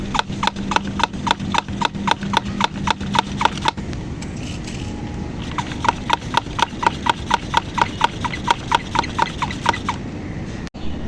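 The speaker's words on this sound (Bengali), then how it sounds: "একটু এখন পাম্পিং করে নিচ্ছি" A hand pump sprayer used while tending pomegranate trees gives quick, evenly spaced squeaky pumping strokes, close by, with a short pause midway before the rhythm resumes.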